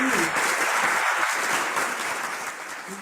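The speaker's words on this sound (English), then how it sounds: "The applause is well deserved." Festival audience applauding at an international festival of African culture for peace, a dense, steady wash of clapping that fades slightly toward the end.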